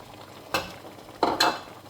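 Afang soup gets stirred in a cooking pot, with a few distinct scraping strokes of a spoon over a faint background simmer: one stroke, then two close together.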